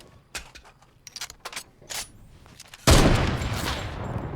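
Sniper rifle fire in an online shooter game, with a few faint sharp clicks and taps early on, then a sudden loud burst at about three seconds that stays as a dense, noisy roar to the end.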